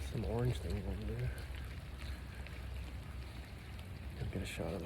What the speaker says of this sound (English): It's really raining.